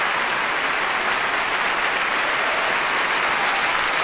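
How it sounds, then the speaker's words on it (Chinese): Live audience applause at a staged letter-reading event, a dense steady roar of clapping that holds at full strength throughout with no voices. "我们听现场掌声响起了"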